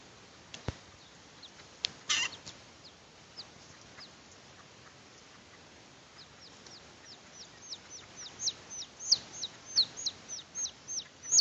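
Baby chicken being eaten by a horse, giving high thin chirps that start sparse and grow into a rapid, louder run of peeps, with a few sharp knocks early on.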